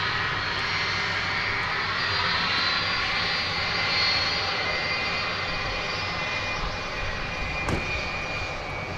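A jet airplane drones steadily and loudly at DFW Airport at night, a continuous engine roar with no talk over it.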